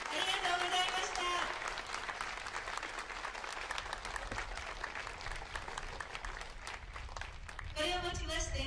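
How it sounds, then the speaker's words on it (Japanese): Crowd at a former pro baseball players' exhibition event in Fukushima applauding, a sustained wash of clapping under an announcer's amplified voice, with music rising at the end. "今一度大きな拍手をお願いいたします"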